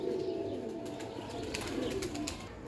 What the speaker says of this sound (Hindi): चीनी कबूतरी है, कुरीज लगी हुई है